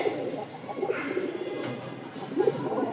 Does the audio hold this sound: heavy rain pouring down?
no